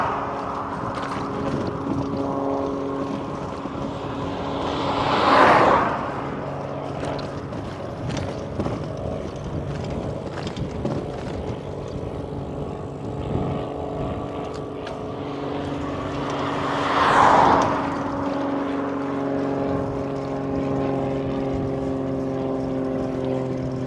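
A propeller airplane near a small municipal airport drones steadily nearby, its engine hum swelling twice as it passes, with no voices present.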